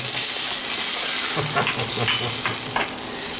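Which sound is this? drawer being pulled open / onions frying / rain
onions frying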